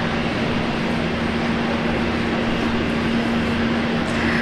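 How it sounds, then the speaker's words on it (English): An EasyJet airliner begins its takeoff roll on runway 01 left at Brisbane, producing a loud, continuous jet engine roar with a steady low tonal hum and no voices. "EasyJet rolling now."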